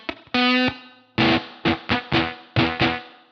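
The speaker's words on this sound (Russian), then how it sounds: "Я подобрал свои компоненты, и получился такой вот Lil Fuzz." Electric guitar played through a homemade Lil Fuzz fuzz pedal: a sustained fuzzy note, then a run of short, choppy distorted chords that cut off quickly, loud and close with no other sounds.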